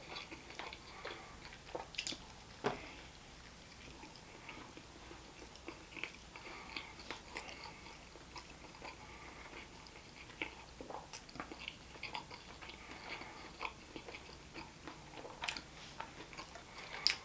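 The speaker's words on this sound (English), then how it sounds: "A lot of chewing." Someone chews bites of a wrap platter with spicy chickpeas and falafel, soft close-up crunching and mouth sounds ticking irregularly, faint and unhurried, with no talking.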